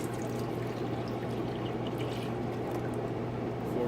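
Two cups of grits poured in a kitchen, a continuous, close, even rush over a low steady hum, with no talk.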